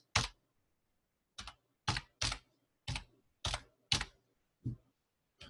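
Typing on a computer keyboard: about ten sharp, close key clacks in an uneven rhythm, some in quick pairs, separated by silent pauses.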